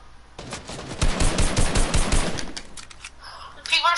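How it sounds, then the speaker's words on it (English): Sustained automatic gunfire in Fortnite, loud and close, rattling in a dense burst for a couple of seconds, with a player talking over the shooting. "Oh, people shooting me now."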